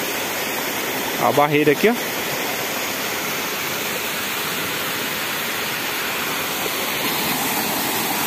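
Steady, loud roar of a waterfall in the Brazilian sertão fills the whole stretch, with a brief spoken phrase near the start over the rushing water.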